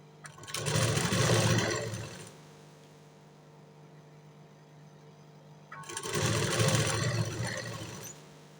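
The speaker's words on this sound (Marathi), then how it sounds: "तर आता मी कंबरेच्या साईडला शिलाई मारून घेणार आहे आणि मग चारही साईडून शिलाई मारून घेईन." A sewing machine stitches the waist side seam of a blouse, running in two close, loud bursts of roughly two seconds each with a quieter lull of motor hum between them; no one speaks.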